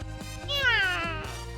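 A cat meows once, a clear drawn-out falling cry, over a steady rhythmic pulsing music loop.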